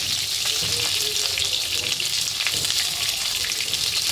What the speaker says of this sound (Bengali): এই যে আমার মাছ ভাজা